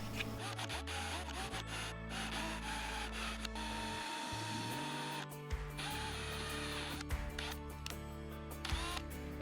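A hand tap turns into a drilled hole for a laser rotary upgrade. It makes faint, close rasping and creaking scrapes in short uneven strokes over a low background hum.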